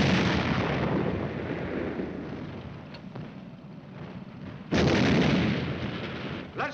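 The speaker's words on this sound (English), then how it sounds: "Platoon, lay a couple of rounds in that Kraut tank for good measure." A 90mm tank gun fires rounds at a German tank on a 1951 war battlefield, a loud booming roar that sustains and fades, then a second sharp blast with rumbling aftermath near the end.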